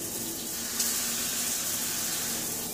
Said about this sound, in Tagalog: So malakas, malakas ang tubig dahil hindi tayo nag-reduce, nag-increase pa tayo.